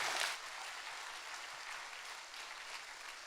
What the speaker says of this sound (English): can I ask you to join me in giving our four panelists a big round of applause for their sharing?